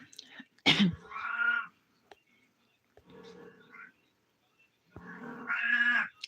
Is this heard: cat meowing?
yes